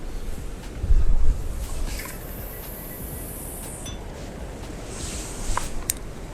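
Strong wind at a lakeside fishing spot rushes and buffets against the microphone in a steady low roar, with a few gusty thumps and faint clinks.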